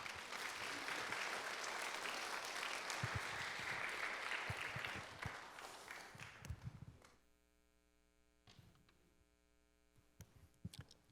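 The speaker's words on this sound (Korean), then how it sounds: "우리 장로님 나오실 때에 힘찬 박수로 환영하도록 하겠습니다." A church congregation in San Francisco gives strong applause to welcome an elder, a dense, even clapping that fills the room for about seven seconds and then fades out, leaving a steady mains hum with a few faint knocks.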